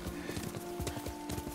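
Hooves of a ridden horse in the video game Ghost of Tsushima clip-clop in a brisk, regular rhythm, close and clear, with faint voice in the background.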